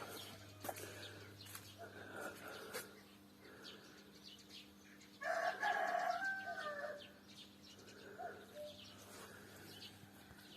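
A rooster crows loudly among chickens clucking and other birds calling, over a faint steady hum in the background.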